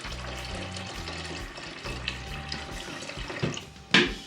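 Tap water runs into a vessel in a home kitchen while making freddo espresso, a steady low splashing flow that ends in a couple of sharper clinks near the end.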